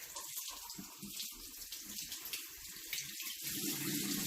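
Makeup brushes are rinsed under a running tap into a sink, a soft, steady stream of water broken by splashy gurgles as the bristles pass through, fairly quiet and with nobody speaking.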